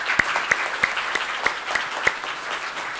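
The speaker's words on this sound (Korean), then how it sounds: "박수 한번 쳐주십시오." An audience at a Korean housing policy forum applauds, with a loud, steady patter of many hands clapping and a few sharper individual claps standing out, with no voices over it.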